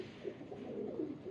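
A female Teddy-type pigeon with a cap and coloured eyes gives soft, low, rolling coos, close by and alone.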